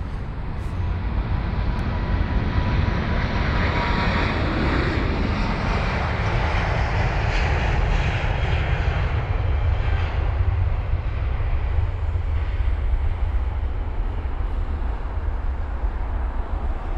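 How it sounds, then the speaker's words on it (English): A British Airways Airbus A350-1000 departing London Heathrow for Denver roars loudly and continuously, a broad, rumbling jet thunder with a deep low end that slowly shifts in tone as the aircraft climbs away. "So this one is heading to Denver. Flight number BA219 on board the A350-1000"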